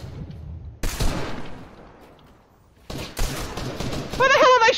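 Gunfire in the Fortnite video game comes in two sharp bursts of shots with decaying tails, loud and close, while a player talks over the second burst.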